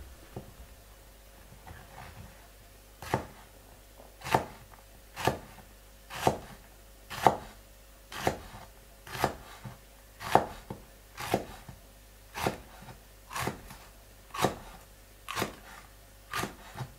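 A knife chops chili on a cutting board with about fifteen evenly spaced, sharp, close knocks at a slow, steady pace, and no one talks.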